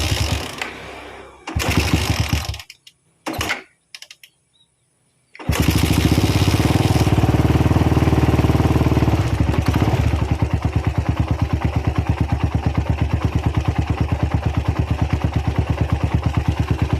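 A Suzuki Satria motorcycle with a newly fitted vacuum carburetor cranks in a few short attempts, falls briefly silent, then fires and settles into a loud, steady, rapid idle close by.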